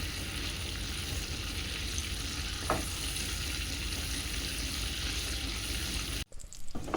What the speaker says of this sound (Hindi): इसे हल्का ब्राउन होने तक रोस्ट करना है